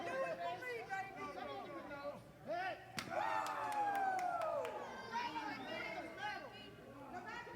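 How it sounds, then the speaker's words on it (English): Wrestling crowd at a Lethal Limits independent pro wrestling show in Marmet, chattering and cheering around the ring, with a commentator talking over it and a sharp slam near the middle. "Much to the delight of this Marmet crowd here at Lethal Limits."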